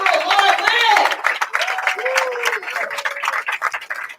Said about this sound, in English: let's get a round of applause for our 3rd place finish.